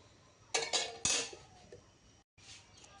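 A metal wok being handled on the stove as oil goes in for bottle gourd and shrimp curry: a few sharp clanks and clatters close by, separated by quiet gaps.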